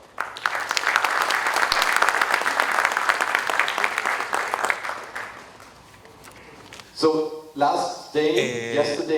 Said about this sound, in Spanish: vamos a recibir con un fuerte aplauso al doctor Stefan Schauer.